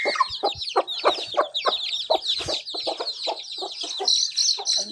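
A hen clucks and chatters repeatedly in quick, busy bursts, close and clear, with other chickens calling around her in a farmyard flock.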